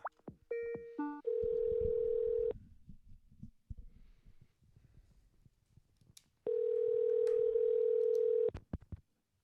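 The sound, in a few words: outgoing phone call ringing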